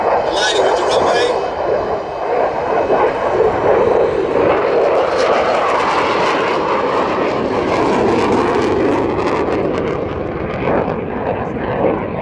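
An F-16 fighter jet roaring during an air display, a loud sustained engine rush that swells and shifts steadily throughout.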